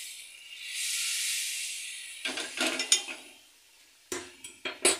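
Hot water pours into simmering moong dal made with fish head, giving a soft rising hiss and sizzle for about two seconds, followed by a few light clinks and scrapes of a utensil against the pot.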